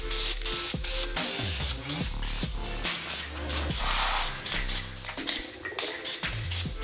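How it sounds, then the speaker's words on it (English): Repeated bursts of spray from a spray paint can during a Nissan Z32 300ZX RB25 car build, each hiss loud and close with short pauses between and clicks and rattles mixed in. "I like the way it sprays."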